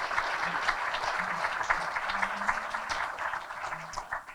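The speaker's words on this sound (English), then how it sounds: "let's have a round of applause" Applause from the audience at a 2020 State of the City chamber of commerce event: a steady, fairly quiet wash of many hands clapping that continues evenly throughout.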